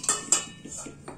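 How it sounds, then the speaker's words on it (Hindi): Pieces of suran, elephant foot yam, are dropped into a metal pressure cooker in a home kitchen, making a few sharp, close clanks and softer knocks against the pot. "तो उबालने के लिए मैं इसे कुकर में डाल देती हूँ"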